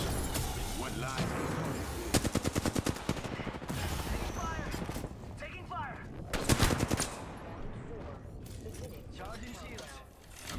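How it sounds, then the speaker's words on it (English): Rapid bursts of automatic gunfire in the Apex Legends battle royale game, several sharp volleys and scattered shots, with players talking excitedly over the combat. "Taking fire!"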